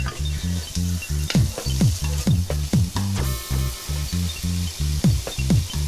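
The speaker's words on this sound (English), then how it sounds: "now we just want to introduce the hamburger with all our spices and aromatics" Hamburger meat with spices and aromatics sizzles in a pot for chili, a steady frying hiss with occasional stirring clicks, mixed under loud rhythmic background music.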